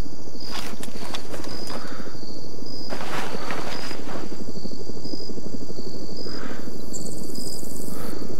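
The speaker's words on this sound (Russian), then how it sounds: "Вертолеты. Запад. 1000 метров." Helicopters flying in a war setting, a loud, steady rotor drone with rapid rhythmic chopping that fills the whole stretch, close and constant, with no talk over it.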